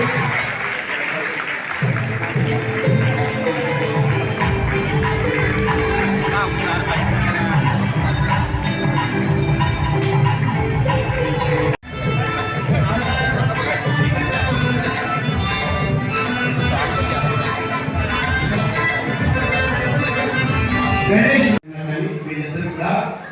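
Sustained, loud audience applause at the inauguration of a new Sahaya Mata Christian church, with a voice talking over it; the clapping cuts off abruptly twice and resumes.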